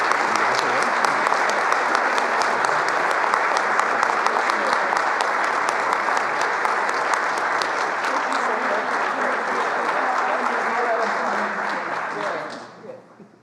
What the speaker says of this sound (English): So please join me in giving Kim Butcher a nice round of applause